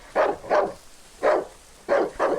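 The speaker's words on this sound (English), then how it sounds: "Now you see one of them is barking at me." A dog in the video game Darkwood barks in warning, three loud separate bouts, the first and last doubled, close and clear with nothing else heard.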